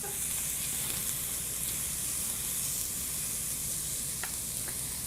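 Zucchini noodles sizzle in a hot pan with a loud, steady hiss that continues unbroken throughout, a few faint clicks on top, and no voices.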